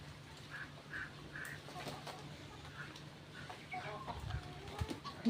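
Chickens perch in a garden plant, pecking at insects and giving soft, scattered clucks over a quiet outdoor background.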